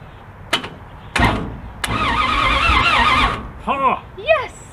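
Starter on a 1969 Dodge Charger with a 440 big-block engine and a mini starter, fitted with long-tube headers, cranks in a sustained whirring burst of about one and a half seconds after several sharp clunks, and voices follow.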